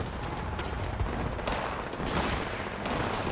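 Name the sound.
assault rifle firing in video game Fallout 76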